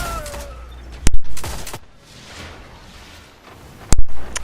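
A fusion rifle fires in a Destiny Iron Banner match: two loud, sharp bursts about three seconds apart, each a bright crack followed by a short rumbling tail, over low game ambience.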